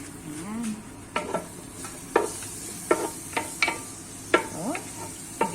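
Camansi (breadfruit) pieces cooking in a pan, a steady sizzle of frying with repeated stirring scrapes and clinks, close and alone without talk.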